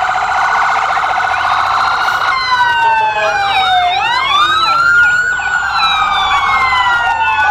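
An ambulance siren from a Stewart's Ambulance vehicle closing a holiday parade in Somersworth wails steadily, then sweeps up and down in loud rising and falling tones, close and continuous throughout.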